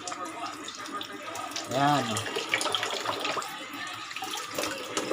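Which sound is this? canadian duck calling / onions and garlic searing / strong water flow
strong water flow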